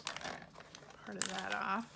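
Scissors cut through a sheet of vellum paper during a papercraft project, a short crinkly snipping and rustle rising near the end while someone talks over it.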